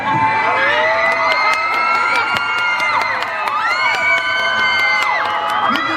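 A crowd at a national book fair shouts and cheers loudly, many voices overlapping with whoops and high children's cries throughout.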